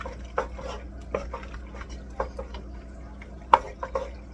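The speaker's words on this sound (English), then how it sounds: "Now I'm gonna add some butter to them here." Butter being stirred into cooked pasta in a pot, giving soft irregular clinks and scrapes of a utensil against the metal, fairly quiet and close.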